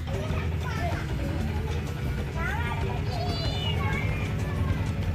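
A cat meows a few times against a steady, noisy background with voices chattering nearby.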